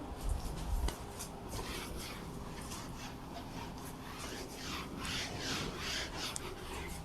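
An eraser rubs out maths working with soft, papery scrubbing strokes, faint and close, repeating in short back-and-forth bursts without talk.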